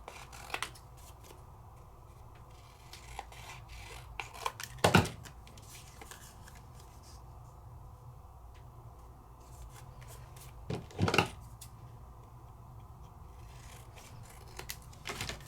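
Scissors snipping through specialty paper, with two longer cutting strokes standing out among soft rustles and small clicks, close and fairly quiet.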